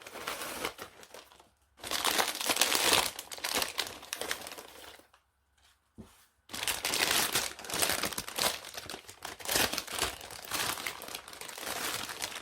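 Packaging of a rainbow elf needle-felting kit holding wool, felting foam and needles being opened, close crinkling and crumpling of plastic in bursts broken by a short quiet pause, with no talk.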